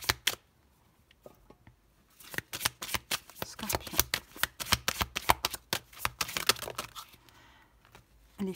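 A deck of oracle cards is shuffled in quick, crisp riffling bursts that rise after a quiet start and continue for several seconds, with a single brief spoken word.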